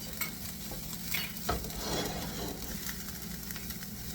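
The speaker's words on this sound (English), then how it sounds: "He's going to stir it around just until the fragrance come up" Garlic, paprika and thyme frying in a pan, a steady close sizzle broken by a few soft scraping stirs, with no one talking.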